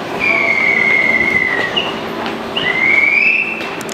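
A JR Saikyo Line 205 series local train bound for Omiya pulls out of Ikebukuro station: close, loud rolling rumble with high wheel squeals that whistle, bend and fade, then rise again near the end.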